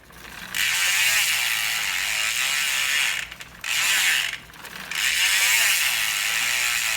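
A bicycle freewheel hub on a new wheel clicks in a rapid, steady ratcheting buzz as the wheel coasts, close and clear, with two brief pauses between spins.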